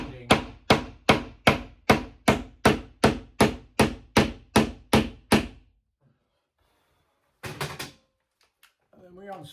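Hammer blows driving a screw into an MDF wardrobe panel, about fourteen sharp, evenly spaced knocks in a fast steady rhythm, then a pause and a brief clatter as talk begins.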